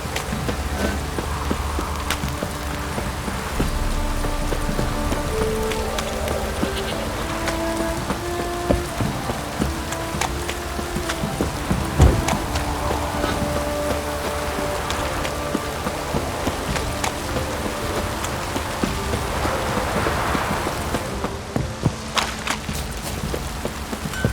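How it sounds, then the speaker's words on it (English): Steady heavy rain hisses throughout a scene in The Witcher 3, with scattered footsteps and faint background sounds beneath the downpour. "This downpour's a bastard"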